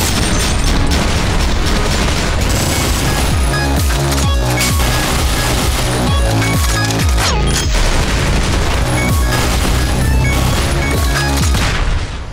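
Rapid, continuous LMG fire from the top-down shooter OTXO, a loud, dense barrage of booming bursts that keeps going without pause and fills the whole stretch with no talking.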